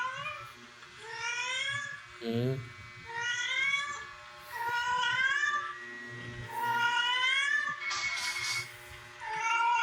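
Several cats meow and caterwaul in long, wavering, rising and falling cries, loud and close, one after another with brief gaps.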